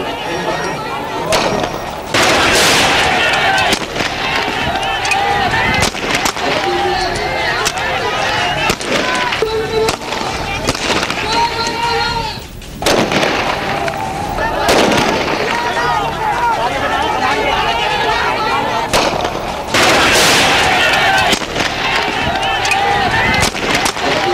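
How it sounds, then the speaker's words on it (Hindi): Police gunfire aimed at protesters in Lyari during an operation: repeated sharp bangs and cracks burst through a dense, loud crowd din, with voices shouting and talking throughout. "इस वक्त आप देख सकते हैं ये मुजाहिरीन पर फायरिंग की जा रही है।"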